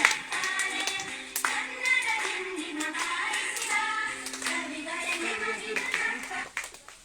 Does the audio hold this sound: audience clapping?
yes